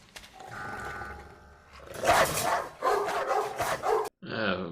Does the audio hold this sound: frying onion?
no